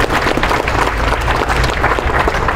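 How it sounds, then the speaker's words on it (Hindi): A crowd at a political speech about scheduled-caste officials bursts into loud, sustained applause, dense overlapping claps from many people filling the space without a break. "जोरदार तालियां।"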